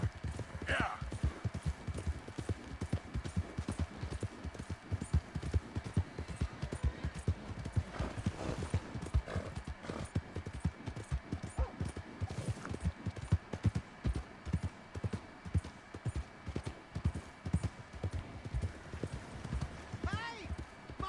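Rhythmic clip-clop of horse hooves plodding steadily throughout in Red Dead Redemption 2, with a couple of horse whinnies, over a faint background hum.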